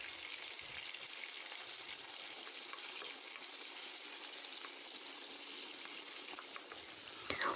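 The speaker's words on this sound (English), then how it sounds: "I heated the oil in a wok and then just stir fry, starting with" Beef stir-frying in hot oil in a wok, a soft steady sizzle with faint crackles throughout, close but quiet, ending with a brief clatter.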